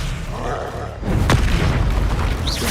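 A muffled rumble cuts to a sudden deep spell explosion in Hogwarts Legacy, followed by a sharp crackling burst and a lingering booming roar, loud and close, ending with a rising magical whoosh.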